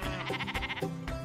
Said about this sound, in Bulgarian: Кози, петли!